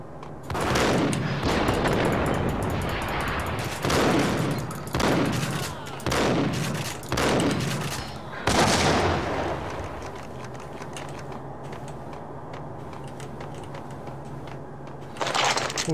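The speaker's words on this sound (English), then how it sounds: "since when the fuck does a shotgun go that far?" Shotgun gunfire in the video game Max Payne: a run of loud, close booming blasts fires in quick succession over about eight seconds, then fades into a lower rumbling ambience, with one more burst near the end.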